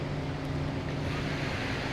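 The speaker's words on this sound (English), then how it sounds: "Can you hear the waves breaking on shore?" Steady surf rolls and hisses continuously on a Naples, Florida beach with a low rumble of wind, no distinct individual break standing out.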